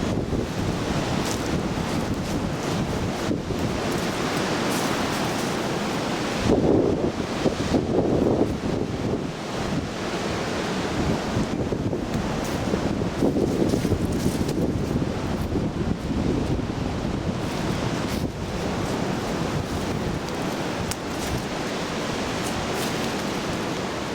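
Strong Alaska wind roars continuously past a portable pop-up greenhouse, a broad rushing noise that buffets the microphone with louder gusts rising and falling throughout.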